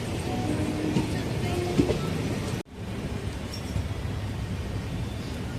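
A Nagercoil–Coimbatore passenger train runs past near Erode, a steady broad rumble of rolling wagons with faint wheel clatter, broken by a brief dropout midway before the rumbling resumes.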